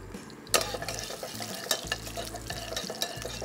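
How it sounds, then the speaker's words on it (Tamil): Whole cardamom, cinnamon, cloves, peppercorns and dried red chillies crackle in hot ghee for a donne biryani, a steady close sizzle broken by sharp spoon-on-pot clinks and stirring scrapes, with no talk. "ஏலக்காய், பட்டை, லவங்கம், மிளகு, காஞ்ச மிளகா, இது எல்லாத்தையும் அந்த நெய்யில் போட்டு"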